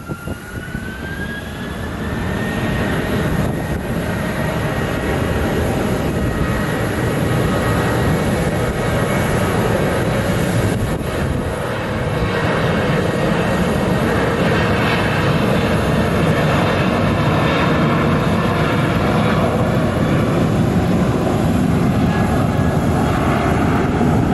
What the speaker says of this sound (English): let's film this Southwest taking off